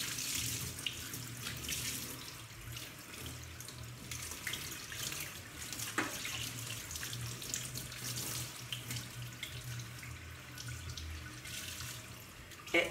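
Tap water runs steadily into a stainless steel kitchen sink during rinsing, a close, continuous splashing hiss with small shifts as the flow hits the metal, and no voices.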